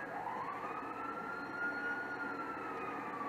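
A police siren wails steadily in GTA Online, its rising and falling tone sweeping continuously over a constant drone of engine and traffic noise, loud and close throughout with no talking.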